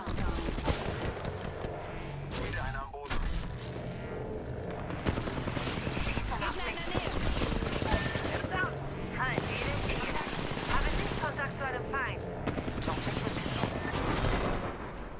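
Dense gunfire in Apex Legends, with repeated automatic bursts and heavy booms layered over mechanical clatter, loud and nearly continuous, with game voice lines heard now and then.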